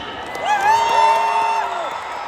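An arena crowd at a concert in Scotia Arena, Toronto roars, with a loud sustained whoop rising above the general crowd noise for over a second before fading.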